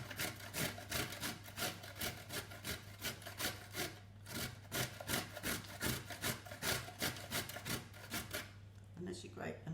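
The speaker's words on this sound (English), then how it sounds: "And we're going to grate the carrots as well." Sweet potato and carrots are grated by hand, with a rapid, regular rasping stroke repeating steadily throughout at close range.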